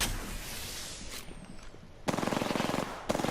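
Automatic weapon fire in Apex Legends rattles out in rapid bursts, a quieter distant exchange first, then a loud close volley and a second burst right after.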